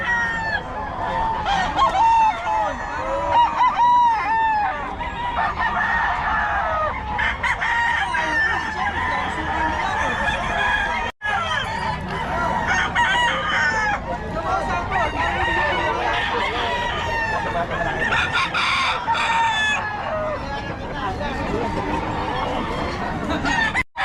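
Roosters crowing again and again and hens clucking at a poultry market in Bocaue. The calls come from several birds, some near and some farther off, with busy crowd chatter underneath.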